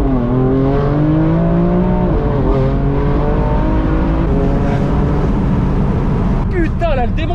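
A BMW M4 Competition sports car, tuned to stage 2 with 550 horsepower, accelerates loudly with rising engine pitch that drops at a sharp gearshift near two seconds and climbs again, with voices in the cabin near the end.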